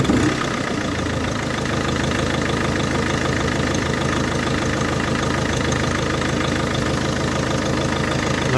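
A diesel engine in a Volvo V50 with the D4164T engine runs at a steady idle with a rough, knocking pulse, close and loud, and a faint shift near the start with no talk.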